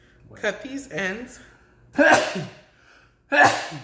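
Two sharp sneezes burst out close by, a second or so apart, following a stretch of speech.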